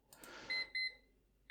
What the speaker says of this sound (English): there's my Pomodoro timer telling me that this session is about to end